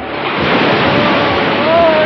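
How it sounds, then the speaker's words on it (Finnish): Strong wind and crashing waves at sea in a cartoon roar as a loud, continuous wash of noise that swells slightly toward the end, with a brief thin whistle near the close. "tuuli yltyy yhä vain"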